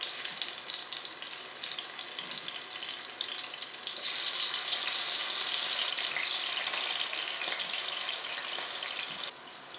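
Halved tomatoes fry cut side down in hot oil in a pan over high heat, a loud continuous sizzle that surges as they hit the pan, then crackles steadily and drops slightly near the end.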